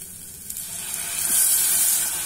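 Coquillettes pasta cooking in tomato sauce gives a soft, steady sizzle with faint steamy hiss and occasional stirring scrapes, growing slightly louder toward the end.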